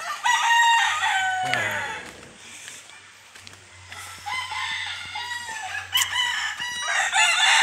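Several gamecock roosters crow loudly and close by, one call overlapping the next, with some clucking between the crows, on a mountainside in Natipuan, Nasugbu, Batangas.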